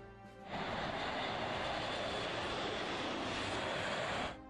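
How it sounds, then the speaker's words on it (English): An Airbus A400M Atlas, a European four-engine military transport aircraft, passes as a broad, steady roar of turboprop engines that swells in within the first half second and holds loud and constant. "The Airbus A400M Atlas is a European four-engine military transport aircraft."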